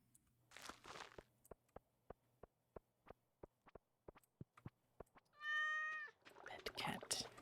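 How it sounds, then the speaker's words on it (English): Stardew Valley video game sounds: a steady series of soft, evenly spaced footstep-like ticks, then a short rising electronic meow from a cat being petted. Brief bursts of voice-like game noise come before and after. "Pet cat."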